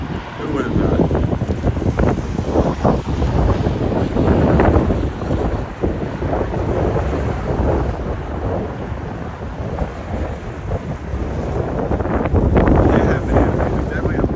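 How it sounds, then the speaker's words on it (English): Strong, gusty wind outdoors in Duluth, Minnesota buffets the microphone with a constant loud, rumbling roar that swells and eases throughout. "it was definitely a blustery day"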